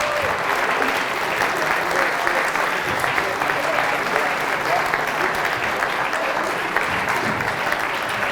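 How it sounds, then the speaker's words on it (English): Loud, sustained applause from a crowd at a Q&A event honouring heroes, dense and steady clapping with some voices mixed in underneath. "we'll keep that round of applause going for the heroes."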